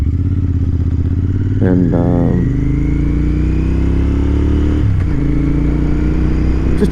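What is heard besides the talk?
cafe racer motorcycle riding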